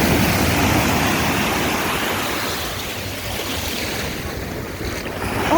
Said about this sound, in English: These waves is no joke.